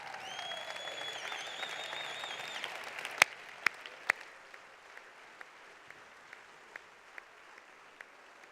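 Audience applause at an awards ceremony closing a 2013-2014 season, a steady wash of clapping over the first three seconds alongside a whistle, then several sharp loud claps and scattered fading individual claps.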